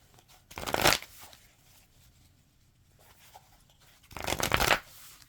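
Tarot cards are shuffled in two separate bursts, one near the start and one near the end, close and fairly loud, with quiet room tone between them and no talk.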